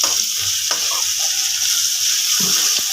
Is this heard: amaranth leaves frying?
yes